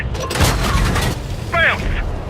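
A tank shell bounces off armour in the World of Tanks console game, a sharp booming impact and crack followed by a short ringing ricochet, loud and close amid game noise.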